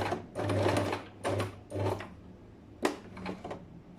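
Sewing machine stitching a trouser side pocket in short bursts of fast needle chatter, separated by brief pauses and a few sharp clicks, close and clear with no talk.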